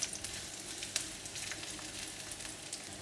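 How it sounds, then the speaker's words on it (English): Crushed garlic frying in hot oil in a pan gives a steady, close crackling sizzle with a few sharp pops, with no voices over it. "Add in all crushed garlic and give it a stir until fragrant, brown and crispy."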